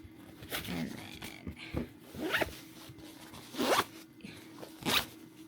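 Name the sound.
zipping up clothing compression packing cubes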